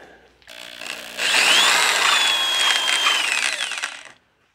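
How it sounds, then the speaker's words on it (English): A power drill bores through an existing hole in a guitar pickguard to widen it, a close, loud whirring grind that rises and holds for about three seconds before cutting off, with no talk. "I'm going to widen these holes."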